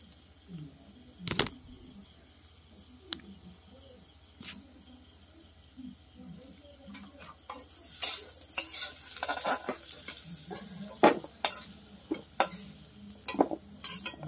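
Fried potatoes lifted out of a pan with a utensil, with sparse metallic taps at first, then a busier run of scraping clinks and sizzle bursts, close and fairly quiet over a faint background hum.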